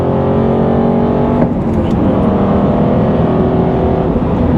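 A CTR Aston Martin Vantage race car pulls away, its engine droning loud and close as a steady harmonic hum that shifts briefly as it changes gear.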